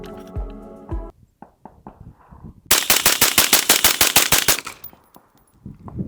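Rifle fired through a Dead Air Lazarus 6 suppressor with a Break Arms charging handle, a few spaced shots and then a fast, loud burst of about a dozen rapid reports, close and alone.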